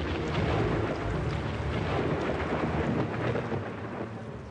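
Heavy thunder rumbles low and long beneath steady rain, a continuous storm roar that fades slightly toward the end.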